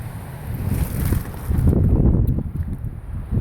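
Strong wind blowing outdoors on Peavine in Nevada, a steady loud low roar buffeting the microphone throughout, with gusts swelling in the second half.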